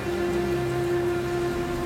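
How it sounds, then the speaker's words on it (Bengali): Steady rain with strong wind falls in a ghost story soundscape, a continuous dense wash of rainfall holding at an even level throughout, with a low steady tonal hum beneath it and no voices. "তীব্র হাওয়া সমেত বৃষ্টি আর ক্ষণে ক্ষণে বাজ পড়তে থাকে"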